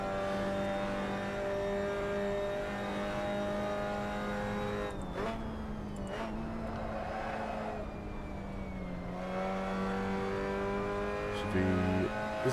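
Mazda MX-5 Cup race car at Lime Rock Park, its engine droning steadily from onboard at high revs, then briefly dipping around gear changes before climbing again, with a faint tire squeal near the end.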